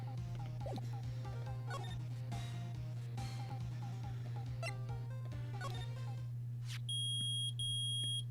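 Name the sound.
metal detector beeping in video game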